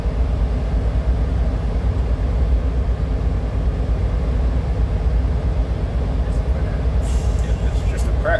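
A bus engine's exhaust rumbles low and steady at idle while the engine stabilizes. It forms a constant, dense drone with little variation and a few faint higher sounds near the end.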